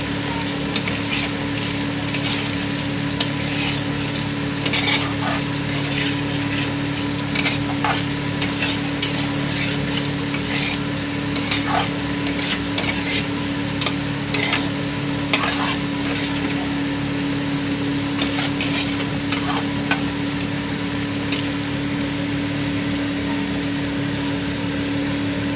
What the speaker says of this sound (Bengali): ভেজে রাখা আলুটা দিয়ে দেবো, দিয়ে হালকা করে নেড়ে নেব।